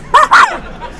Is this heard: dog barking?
yes